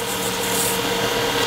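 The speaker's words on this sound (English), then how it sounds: "this little burnishing compound that actually is polishing the surface of the wood while it's sanding" Wooden wine bottle stopper being sanded on a lathe with sanding lubricant and burnishing compound, a steady close hissing rub with no pauses.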